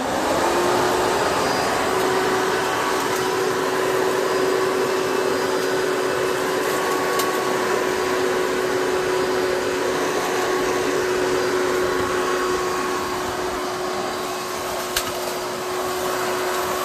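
A Hoover Bagless Twin Chamber or Bissell Powerforce Helix Turbo vacuum cleaner runs steadily and loudly throughout, a constant motor whine with an airy rush, close up and with no voices.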